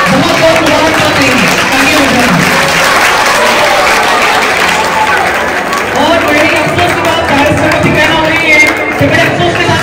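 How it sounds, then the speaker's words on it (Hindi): Students at a school Teachers Day program applaud their teachers with loud, sustained clapping from a large crowd, mixed with cheering and chatter throughout. "तालियां बजाएंगे"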